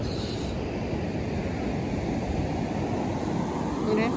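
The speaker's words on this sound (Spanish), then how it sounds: "el mar ya se está poniendo agresivo" Rough, aggressive ocean surf at Baker Beach, San Francisco, a steady broad wash of breaking waves with wind noise on the microphone, loud and continuous throughout.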